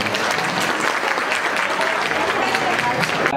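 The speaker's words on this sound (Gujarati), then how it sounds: "આપણે ખૂબ તાળીઓથી વધાવીએ" An audience at a Bhagavat recitation gathering claps steadily to welcome a revered temple maharaj, dense continuous applause close and loud throughout, ending abruptly.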